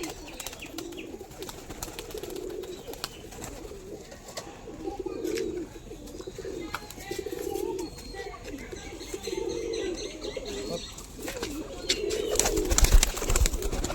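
A Bagghocha pigeon coos in repeated low, rounded phrases at close range, with faint chirps, clicks and background rustle between calls and a louder burst near the end.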